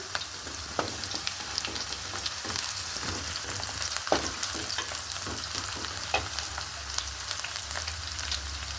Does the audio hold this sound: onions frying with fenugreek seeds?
yes